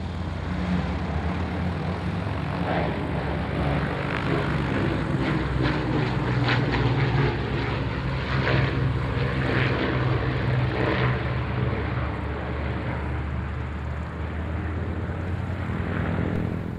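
An Avro Lancaster bomber drones past at an airshow, its four propeller engines making a loud, continuous, throbbing roar that holds steady throughout with no voices.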